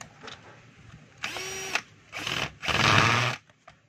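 A DeWalt D25012 rotary hammer runs in short bursts, with a whining motor buzz rising and cutting off, then a longer, louder run near the end, with clicks between the bursts.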